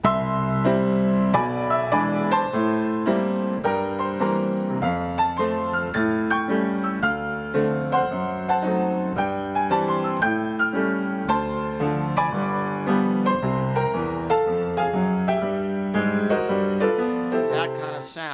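Solo stride piano plays a lively, bouncing rhythm, alternating low octave bass notes with mid-range chords beneath a busy melody, loud and close.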